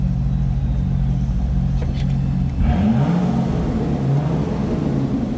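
A 2005 Chevrolet Corvette convertible's engine idles with a low rumble, then revs up and settles, rising and falling in pitch, close by and steady.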